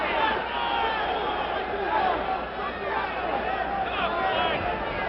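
Boxing crowd at the Sugar Ray Leonard versus Floyd Mayweather Sr. bout, a continuous roaring arena hubbub with swelling cheers and shouts, heard thinly through an old broadcast with commentary running over it.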